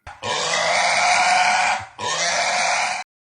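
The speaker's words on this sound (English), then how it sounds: "yesterday we had the pig squealing" A pig gives two loud, harsh squeals close by, the first long and sustained, the second shorter after a brief break, with no voices.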